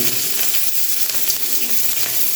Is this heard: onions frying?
yes